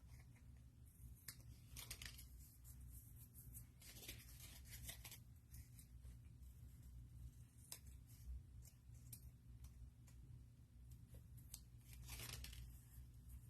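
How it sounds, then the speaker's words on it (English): Scissors snip repeatedly through folded patterned paper, trimming the square ends off a paper snowflake Christmas ornament. The cuts are close and crisp, coming in uneven bursts with brief pauses, and no one speaks. "we're just going to work our way around, trimming all those square ends off"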